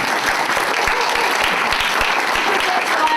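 Audience at an NZI business event clapping steadily, a dense, loud, continuous wash of applause with a few voices cheering mixed in.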